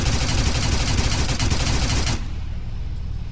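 A 6.5 minigun in Arma 3 fires a loud, continuous high-rate roar of rapid shots for about two seconds, then cuts off, leaving a lower rumbling tail.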